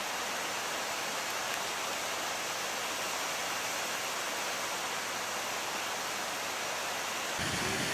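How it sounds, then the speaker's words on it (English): A waterfall in the Smoky Mountains pours in a steady, full, hissing rush, loud and close and unchanging, with no voices heard. "We stopped by a waterfall to eat lunch, and it's really beautiful here."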